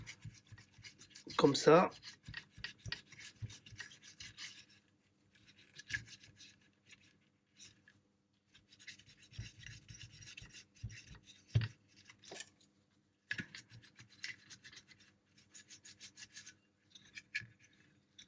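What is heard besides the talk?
wiping circuit board with isopropyl alcohol wipe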